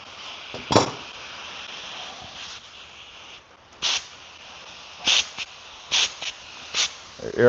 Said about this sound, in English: The air ratchet don't want to work